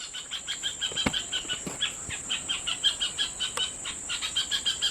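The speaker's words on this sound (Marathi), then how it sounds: "एक एक पाखरू पण ओरडतं आहे" A bulbul-type bird calling near a cashew tree at a village home: a faint, repeated chirping call sits over a steady high insect drone, with a few soft clicks but no voices.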